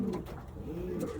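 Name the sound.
pigeons cooing in hen section of loft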